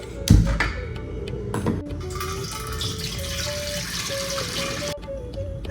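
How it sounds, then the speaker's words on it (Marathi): Water poured into a cooking pot to boil for making rice papad, starting with a metallic clank. A steady stream follows, its tone rising gradually as the pot fills, close and continuous. "परत ह्याच पातेल्याने पाणी मोजून टाकायचं"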